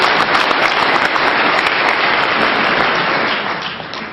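An audience at a university lecture on the Federal Reserve claps together in a loud, dense round of applause that holds steady and then starts to fade near the end.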